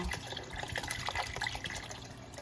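Broth pours softly into a pot of Zuppa Toscana soup for a couple of seconds, a quiet gurgling splash close by.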